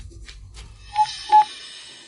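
A telephone being dialed, with two short electronic keypad tones in quick succession after a brief rustle, close and clear.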